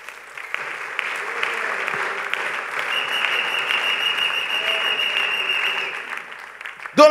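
A church congregation at a Sunday service applauds steadily and loudly to acclaim the Lord, a sustained wash of clapping that swells slightly midway before fading, with a sharp burst at the very end.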